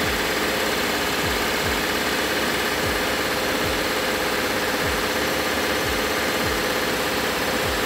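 The engine of a 2010 Honda Odyssey minivan holds steady at about 2000 RPM, a loud, continuous mechanical drone with a faint repeating pulse, heard close and alone.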